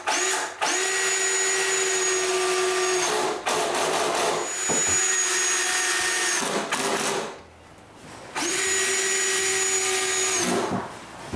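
A power drill bores holes for mounting a wooden towel cabinet to a bathroom wall, three loud sustained whining runs with short pauses between them, close by.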